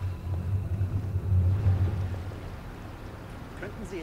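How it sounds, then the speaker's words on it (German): Rain pours in the video game Hitman Absolution, a continuous wash of falling water layered over a deep, rolling low rumble that swells and eases slightly. "Dieser Regen, lächerlich."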